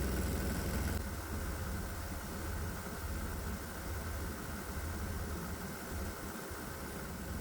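A diesel engine fitted with vaporizers runs at a steady idle, a faint, unbroken hum and rumble that dips slightly in level after the first second and then holds constant.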